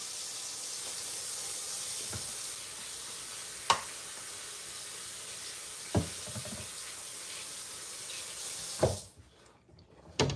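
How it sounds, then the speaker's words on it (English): Hands being washed with soap under a running tap, a steady wash of water with a few louder splashes and knocks, before the flow cuts off near the end. "See, I'm washing the hands with soap and water."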